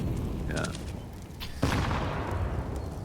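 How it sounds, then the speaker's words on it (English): A grenade blast during a professional Counter-Strike match on the Inferno map lands as one sudden loud burst partway through, set among game sounds and commentators' voices. "Timing on the nade."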